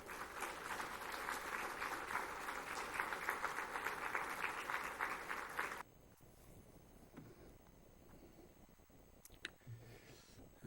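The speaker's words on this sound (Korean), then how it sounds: "박수로 목사님 모시겠습니다." Church congregation applauding to welcome a pastor to the pulpit at a Sunday worship service, a dense, steady round of clapping for several seconds that stops abruptly, leaving quiet room sound with a few faint knocks.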